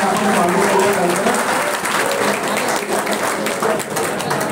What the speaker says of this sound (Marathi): एकदा जोरदार टाळ्या आपण स्वागत करूया.